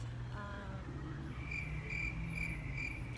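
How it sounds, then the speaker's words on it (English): Crickets chirp in steady, rhythmic pulses against a quiet background, an evenly repeating trill that stays moderately close throughout. "crickets."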